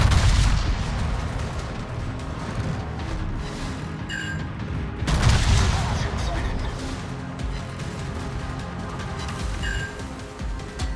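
Heavy gunfire from the battleship North Carolina in World of Warships, deep booming salvos and rumbling explosions rolling continuously, with a stronger blast partway through and a voice talking over the din.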